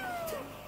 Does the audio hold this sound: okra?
no